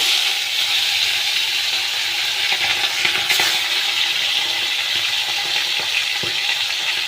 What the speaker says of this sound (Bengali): এবার আমি তেল গরম করতে দিয়েছি। এবার একটা একটা করে তেলাপিয়া ছাড়বো।